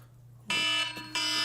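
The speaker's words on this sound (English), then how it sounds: "And there goes that alarm." A loud, piercing electronic alarm sounds in a workshop during a livestream about LCR tweezers and circuit troubleshooting, blaring in two bursts separated by a brief dip, with no talking.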